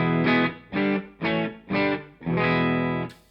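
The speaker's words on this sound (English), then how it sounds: "So this is a very, very neutral sounding guitar amp," A clean electric guitar through a very neutral-sounding amp plays five strummed chords in a steady rhythm, each ringing briefly before the next, clear and undistorted.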